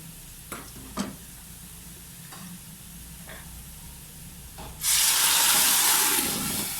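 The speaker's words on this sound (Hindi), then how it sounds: "पानी इसलिए डाल रहे हैं प्याज अच्छे से गल जाए" Onions frying for a village-style chicken pulao sit quiet apart from a few light clinks, then burst into a loud, steady hiss and sizzle the moment water is poured in, holding strong to the end.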